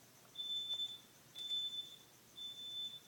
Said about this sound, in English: Is Daddy testing the fire alarm?